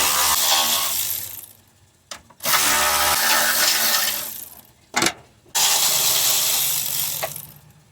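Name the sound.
ratchet wrench removing 10mm bolts on Honda Accord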